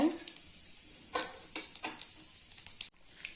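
Mustard seeds and a few cumin seeds sizzle and crackle in hot oil while tempering for wheat rava idli, a steady hiss broken by sharp popping bursts, close and moderately quiet.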